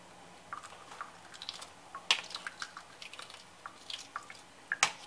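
Hard-boiled egg shell cracked and peeled by hand for deviled eggs, giving scattered small crackles and light ticking snaps, with a couple of sharper cracks standing out; close and fairly quiet, no talking.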